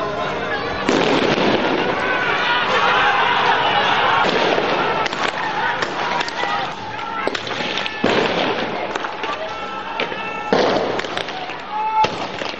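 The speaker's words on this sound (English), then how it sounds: "The police fire tear gas and a gun known locally as a shozan." Police firing tear gas launchers and guns at a crowd gathered for a Shia religious festival in Bahrain, a dense series of sharp bangs and pops echoing through the street, with shouting voices mixed in throughout.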